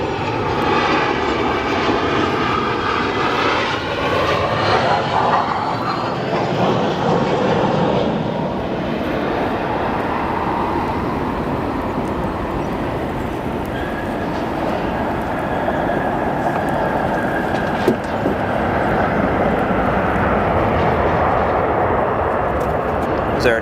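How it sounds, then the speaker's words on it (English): An Aeromexico Boeing 737-800 arriving from Mexico City at O'Hare produces a broad, steady jet roar that fills the whole stretch, heavy and continuous with a rumbling low end, over distant airport ambience. "Our next arrival here, we have Aeromexico 737-800 arriving from Mexico City."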